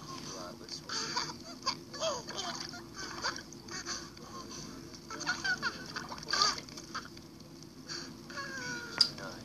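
A small pet bird splashes and flutters in bath water, giving faint, irregular bursts of splashing with occasional soft chirps, under quiet background noise.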